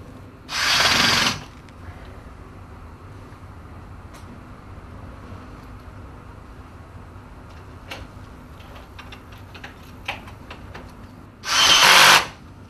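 A power drill drives screws into the foot plates of a Red Sea aquarium cabinet, giving two short, loud whirring bursts near the start and end with quiet ticking between them.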